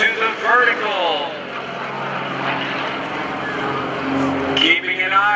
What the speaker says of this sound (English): From the right, Greg Connell with a Pitts Model 12 coming in. He's got the throttle up, 415 horsepower, onto the vertical